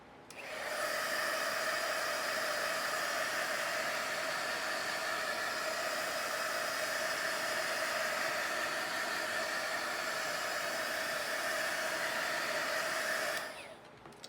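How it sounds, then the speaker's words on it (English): A heat gun blows on a magazine element in a collage, a steady, even whooshing hiss with a faint whine that runs about thirteen seconds before cutting off, close and alone, with no talking. "I'm going to hit that one more time with the heat gun"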